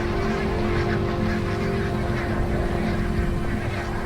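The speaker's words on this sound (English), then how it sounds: "Every winter, barnacled geese arrive right on cue at the same Scottish river." Barnacle geese honk in a dense, continuous chorus at a Scottish river in winter, many overlapping calls forming a loud, steady clamour.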